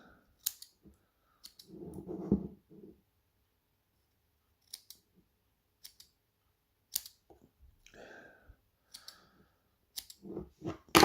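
Small scissors trimming excess cotton wick on a Vandy Vape Revolver RTA coil build, a handful of crisp, close snips spaced irregularly, with soft handling rustles between and no talk.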